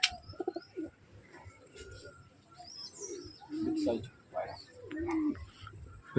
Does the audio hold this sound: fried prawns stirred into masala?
no